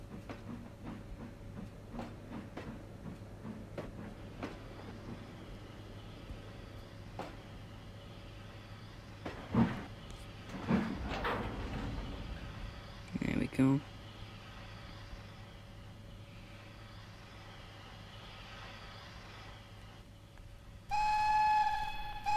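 A train in the Trainz Driver 2 game rolls along with a steady low rumble and hum, broken by a few short clanks and whistle-like blasts, then a brighter tonal whistle near the end, all fairly quiet.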